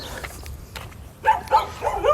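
A dog barks three times in quick succession, fairly close and fairly loud, over a quiet background with faint earlier knocks.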